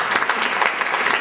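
Brief applause from a panel discussion audience, a short burst of scattered clapping at moderate level, heard alone.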